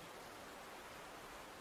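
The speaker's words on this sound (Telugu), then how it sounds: "అది నీళ్లు ప్రవహించే శబ్దమే." Steady broadband rush of a large river flowing nearby, a continuous even wash of water with no breaks, heard alone at a low level.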